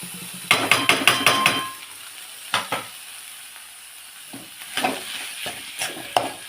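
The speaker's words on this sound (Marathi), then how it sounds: "आता मी छान मिक्स करते बटाट्यांना" Potatoes stirred in a pan with a spoon, a quick run of sharp scraping clatters followed by scattered, sparser knocks and scrapes after a quiet pause, close and fairly loud.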